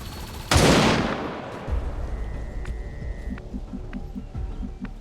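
Gunfire in a video game: a loud burst of shots at the start, then scattered quieter gunfire, a steady low engine throb, and a few faint rhythmic thumps and tones in the background.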